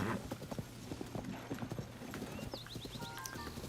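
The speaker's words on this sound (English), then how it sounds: "because I called my horse" A horse's hooves clip-clop at a steady trot in the video game Zelda: Tears of the Kingdom, a quick rhythmic patter of hoofbeats with brief higher game chimes near the end, no talking.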